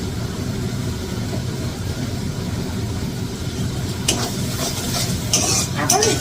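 Katla fish curry being stirred in a hot pan, with sugar just added, gives a steady scraping, sizzling churn throughout, with a few brighter clinks of the spoon near the end.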